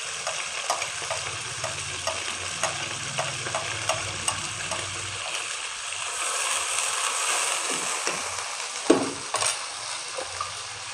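Whole garam masala and mustard seeds sizzle steadily in hot oil for a street-style fried daal mash, a continuous bright hiss with scattered pops and a louder crackle burst near the end, no voices.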